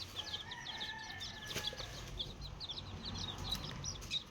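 Chickens and chicks cluck and peep in a farmyard, with a rapid run of small high chirps over steady low background noise and a faint rooster-like call, all fairly quiet and distant.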